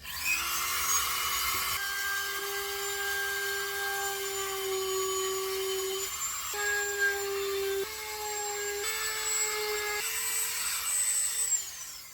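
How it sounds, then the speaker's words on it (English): A small high-pitched Dremel rotary drill whines steadily while drilling holes in wood for a violin, its pitch dipping and rising as it bites. No one speaks. "Alright, just using my little Dremel drill."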